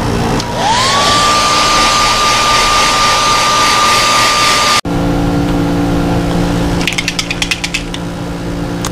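A heat gun or hair dryer blowing on fresh paint on a small fishing lure: a steady close whine and rushing air that spins up, runs for several seconds, then cuts off, followed by faint rattling clicks.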